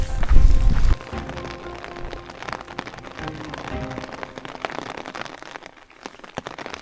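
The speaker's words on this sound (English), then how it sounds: "Our heavy rains are back." Heavy rain pattering on foliage and ground along a steep New Zealand hiking trail, opening with a loud close rumble, then a dense irregular drizzle of drops close by.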